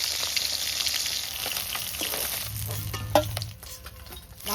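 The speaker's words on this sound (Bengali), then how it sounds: "মাছ ভাজাগুলো খুব সুন্দর কড়া করে ভাজা হয়েছে" Koi fish frying in hot oil in a wok, a steady close sizzle with crackling spatters and a brief stirring clatter, no voices.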